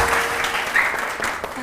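Studio audience applauding on a televised morning show, a steady, dense wash of clapping that fills the whole short moment at close range.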